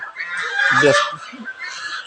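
A young rooster raised among desi hens lets out a loud crow up close, one drawn-out call that fills the whole moment.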